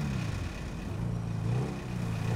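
A motorcycle engine in GTA 5 idles and revs in a steady, loud, close drone with a slight rise and fall in pitch, and no voices over it.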